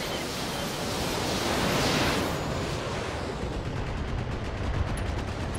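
Mech weapons fire together in the Battletech video game, a dense, loud, continuous roar of blasts and rushing noise that swells around the second mark and then rumbles steadily without a break.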